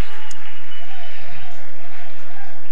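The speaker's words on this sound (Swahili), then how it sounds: "Pigia Yesu makofi" Church congregation clapping for Jesus at a Sunday service, dense steady applause, loud and heavily compressed, with a faint voice briefly rising underneath.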